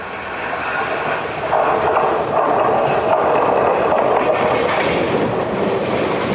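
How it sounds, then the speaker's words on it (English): Limited express train Ryomo rolls into a remote Tokyo-area station, a loud, steady rumble of wheels on track with faint squealing and rhythmic clatter building as it arrives. "I think the limited express train Ryomo is coming."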